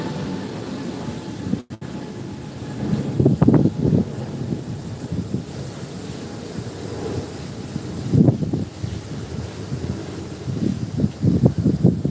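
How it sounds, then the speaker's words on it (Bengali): Strong gusty wind from Cyclone Remal buffets a rooftop, roaring and rumbling in waves with louder surges and trees thrashing, buffeting the microphone close up. "আর দেখো প্রচণ্ড হাওয়া হচ্ছে দেখতে পাচ্ছ গাছগুলো কেমন হচ্ছে"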